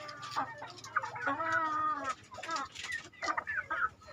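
Free-range chickens cluck and squawk close by as they are put back into the coop, a busy run of overlapping calls with no talking.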